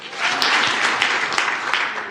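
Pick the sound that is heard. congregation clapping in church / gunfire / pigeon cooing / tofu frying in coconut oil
congregation clapping in church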